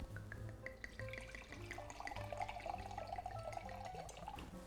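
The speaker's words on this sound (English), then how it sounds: "I know that wasn't a gentle pour" Cabernet Sauvignon pours from a bottle into a glass in a quick, unsteady stream, a soft gurgling trickle with small splashes, close and quiet.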